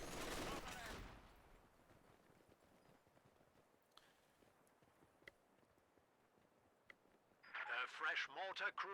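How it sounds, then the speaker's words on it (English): An MG42 machine gun in Company of Heroes 2 gives a dense burst of fire at the start, followed by scattered sharp shots and clicks over a low battlefield hum, and a voice comes in near the end. "MG42 is setting up."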